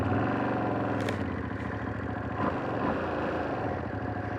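A 2025 Ducati Streetfighter V2S motorcycle engine runs steadily close by during running-in, a dense, continuous mechanical throb with no gaps or speech.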